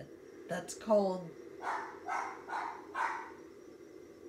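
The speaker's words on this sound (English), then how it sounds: "sorry for the dog barking" A nervous poodle cocker spaniel mix barks indoors in a short series of four or five yips and woofs, fairly faint and a little distant, following a brief word from a person.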